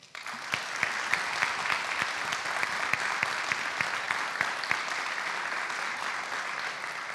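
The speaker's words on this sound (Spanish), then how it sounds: "Un fuerte aplauso para él." Audience applause at a public forum on sustainable mobility in Mexico City, a steady dense wash of clapping with sharp individual claps poking through, sustained evenly for several seconds without voices.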